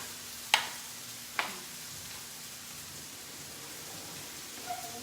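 Garlic frying in a pan for a cashew pesto pasta with mushrooms, a soft steady sizzle throughout broken by two sharp clicks early on, fairly quiet and close.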